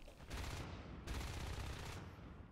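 Sustained video game gunfire as a weapon empties its full magazine into a harvester enemy, two dense bursts of rapid shots with a brief break between, loud and close.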